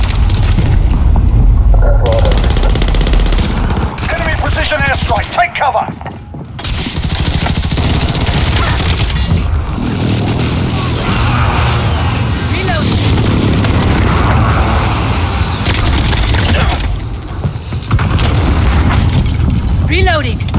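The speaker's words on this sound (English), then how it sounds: "Enemy precision airstrike, take cover." Repeated heavy booms from a precision airstrike in a first-person shooter, loud and rumbling almost without pause, mixed with gunfire and in-game voices speaking over the din.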